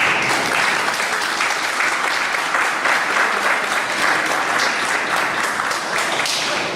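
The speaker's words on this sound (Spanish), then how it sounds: "para quien pido un fuerte aplauso." Steady, loud applause from a crowd, dense clapping that continues unbroken throughout.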